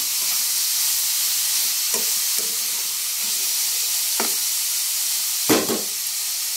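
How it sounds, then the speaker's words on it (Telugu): Chopped banana flower frying in a pan, a steady bright sizzle and hiss with a few scraping stirs of a spoon, the last one louder, close by and without talk. "ఈ విధంగా కలుపుకుంటూ ఫ్రై చేయాలండి. చక్కగా ఫ్రై అయిపోతుంది."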